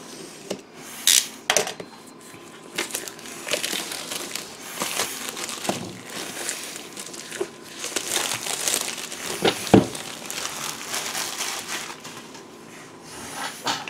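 Maximum Apocalypse card game box being unboxed, with close crinkling and rubbing of cardboard and plastic wrap in irregular bursts and occasional sharp tears, no talk.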